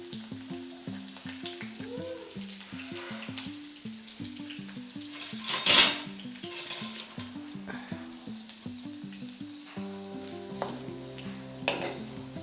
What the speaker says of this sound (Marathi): इथे मी दोन चमचे तेल घातले तेल छान तापलं आहे आपलं त्यामध्ये आपण लगेचच आता लसूण घालून घेऊ आणि एक चमचा जिरं घालून घेऊ